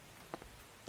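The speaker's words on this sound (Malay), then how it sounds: "Hujan ni, hujan." Rain falling in the video game Late Stops: a soft, steady patter with a few brief drop hits, heard for under a second.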